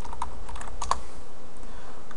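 Keyboard typing, a quick run of light clicks near the mic with a few sharper keystrokes, over a steady low background hum.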